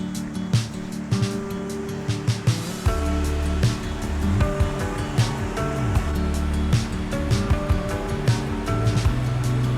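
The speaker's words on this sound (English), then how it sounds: "this river, the River Etive, curves on back round and then goes down Glen Etive" The River Etive in Glencoe flows over a small drop, a continuous rushing of water close by with choppy splashing bursts throughout and no one speaking.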